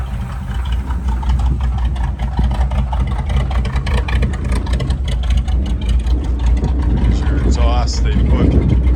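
1971 Chevrolet K10 truck engine running at a steady idle, a loud low rumble throughout with exhaust note, close by, with some faint background noise.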